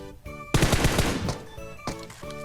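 PUBG Mobile game gunfire: a rapid burst of automatic shots rattles out loudly for about half a second, followed by a fainter single shot.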